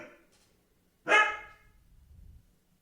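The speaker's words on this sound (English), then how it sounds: "Stray dogs everywhere." A single stray dog bark bursts out loud and close in a bustling town, trailed by a low rumble of street noise.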